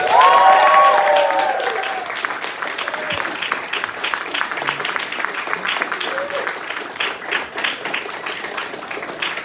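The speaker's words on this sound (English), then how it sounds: "So let's give up another round of applause for our 2024 Filipino graduates." Audience applause at a 2024 Filipino graduation ceremony, a loud burst of clapping that slowly fades into steady, lighter applause from the crowd, with a few voices mixed in.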